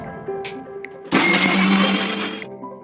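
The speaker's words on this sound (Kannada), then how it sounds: "ಇವಾಗ ಇದನ್ನು ರುಬ್ಕೊಂಡು ಬರೋಣ." An electric blender whirs loudly for about a second and a half, blending a chilled kiwi, banana and curd smoothie, starting abruptly after some faint handling clatter and stopping just as suddenly, with no talking.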